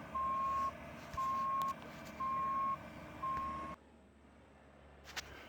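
A Bobcat E42 mini excavator digging a ditch, its reversing alarm beeping four times in a steady rhythm over a loud engine drone, then cutting to quieter idle.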